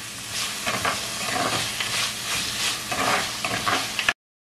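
A spoon stirs onions frying with fenugreek and tomato in a pan for a Sri Lankan crab curry, giving steady close sizzling with rhythmic scraping strokes that ends abruptly, with no talk.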